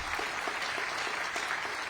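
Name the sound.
audience applause for teachers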